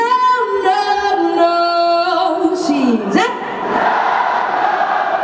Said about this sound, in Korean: 제가 아까 여러분들의 함성 소리를 들었을 때 이거보다 더 컸던 것 같은데